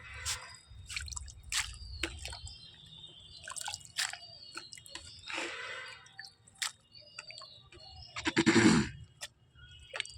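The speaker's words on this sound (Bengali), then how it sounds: "পালং শাকটা আমি ছোট জায়গায় দিয়ে দিয়েছি ধুয়ে নেওয়ার জন্যে।" Spinach leaves being washed and lifted between a small and a large container of water, with wet drips, splashes and squishy handling sounds coming in irregular bursts close by, including a louder splash near the end.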